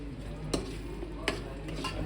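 A spoon works through a grated coconut and jaggery mixture in a pan, giving a few quiet scraping strokes over a steady low kitchen hum.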